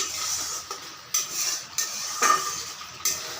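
Spice paste fries in a pan while being stirred, giving a soft sizzle under short, repeated scraping and tapping strokes of a utensil against the pan. It is close and plays alone.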